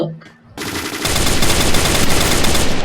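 Loud, rapid automatic gunfire in a video game starts after a brief quieter moment and continues as a dense, unbroken burst.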